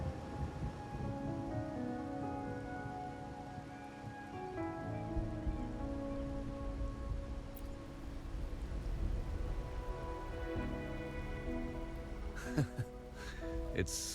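Rain falling in a video game scene, a soft, steady patter under quiet background music, faint throughout with a couple of brief sharper taps near the end.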